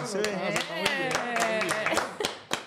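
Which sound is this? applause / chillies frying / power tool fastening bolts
applause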